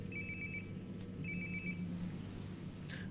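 A phone rings in Life is Strange: Before the Storm, a bright electronic ringtone playing two short bursts, nearby and clear over a low steady room hum.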